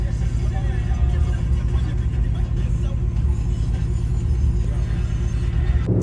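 Steady low road rumble from the inside of a car heading home on a roughly two-hour drive, continuous and moderately loud throughout with no clear talk.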